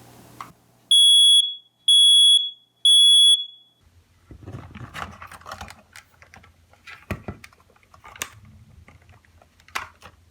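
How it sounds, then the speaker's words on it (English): A smoke detector under test gives three loud, shrill beeps in an even rhythm, each lasting about half a second, followed by quieter handling and clattering noises nearby. "Do a quick test. 3 seconds, should be 3 beeps."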